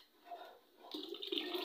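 Water is poured into a pot of cooked black masoor dal, beginning as a faint trickle and swelling into a steady, rushing pour near the mic.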